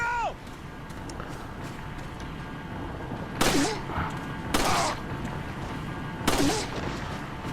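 Three sharp gunshots from Resident Evil 4 ring out a second or more apart over low ambient game background, each a loud, brief blast.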